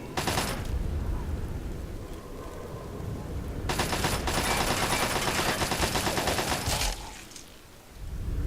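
Automated turret gunfire in Fallout 3 cutting down trogs in the Pitt, with loud, sustained rapid bursts of machine-gun fire, a pause, then another dense burst that stops abruptly.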